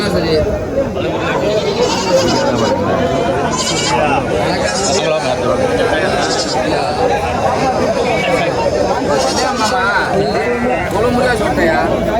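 Goats bleat over and over at a crowded early-morning livestock market, their cries mixing with steady human chatter and a loud babble of nearby voices throughout.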